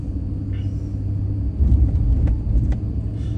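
A car driving at night through oil field country outside Midland, Texas, a steady low engine and road rumble from inside the cabin, swelling slightly midway.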